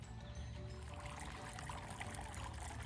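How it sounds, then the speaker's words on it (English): A garden water fountain splashes and trickles steadily, a soft continuous watery patter heard from a short distance over a low background hum. "peeking right over the railing is our water fountain"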